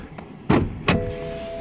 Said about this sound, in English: you do have to give a pull twice on the lever to open the hood